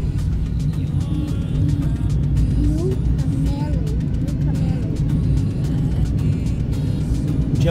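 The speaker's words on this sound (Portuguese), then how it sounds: "Vocês podem ver que já mudou já" A car drives over a freshly laid first layer of asphalt in Navegantes, Santa Catarina, Brazil, giving a steady, loud tyre and engine rumble that continues unbroken from start to finish.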